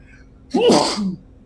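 A single sharp sneeze, loud and close, with a quick inhale leading into the burst, heard alone against a quiet background.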